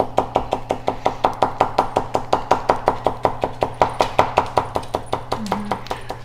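An OKINGJOY VG10 Damascus kitchen knife chops on a board in a fast, steady rhythm, about four crisp knocks per second sustained for six seconds, close and clear, with a low hum underneath.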